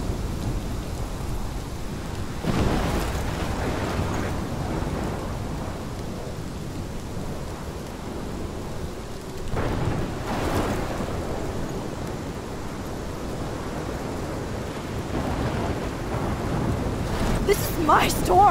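A thunderstorm with heavy rain from the video game Life Is Strange: continuous downpour under repeated deep rumbling thunder rolls, loud and close, with no talking.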